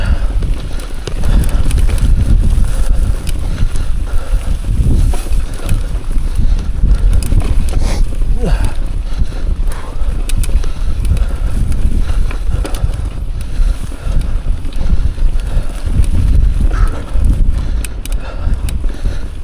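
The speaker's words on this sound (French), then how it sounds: "Et toujours ce vent de face." Strong headwind buffets the microphone of a cyclist during the Sercussoise ride, loud continuous rumbling gusts with no talk.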